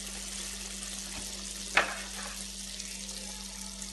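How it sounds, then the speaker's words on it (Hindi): Doughnuts frying in hot oil over a low flame give a steady, faint, even sizzle throughout, with one brief sharper crackle near the middle and no voices. "तेल हमारा गर्म हो चुका है और अब इसके अंदर डोनट डालने हैं।"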